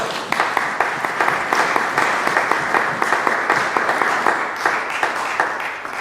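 A church congregation bursts into sustained applause, dense overlapping hand claps filling the room steadily for several seconds with no break.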